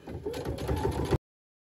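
A Baby Lock Brilliant sewing machine stitches through fabric layers on a child's underwear leg band, giving a short, close mechanical whirr of about a second before stopping dead.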